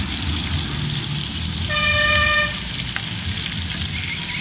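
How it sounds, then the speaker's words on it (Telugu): Green chillies and curry leaves fry in hot oil for a jujube chutney, giving a continuous close sizzle while a car horn toots briefly in the distance. "పచ్చిమిర్చి కూడా వేగుతాయి ఫ్రెండ్స్ అలాగే కరివేపాకు కూడా వేసుకున్నాం ఫ్రెండ్స్"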